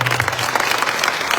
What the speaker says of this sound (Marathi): जोरात टाळी वाजवा सगळे.